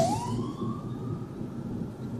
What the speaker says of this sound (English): Siren coming somewhere.